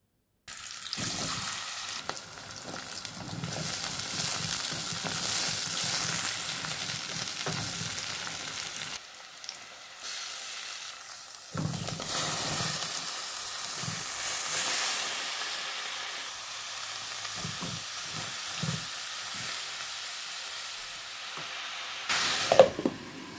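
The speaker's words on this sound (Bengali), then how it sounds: "আমি খেরেলা ভাজিটা করে নিলাম।" Bitter gourd (karela) fries in a pan with a continuous close hiss and crackle, briefly dropping away twice before the sizzle resumes, with scattered stirring clinks.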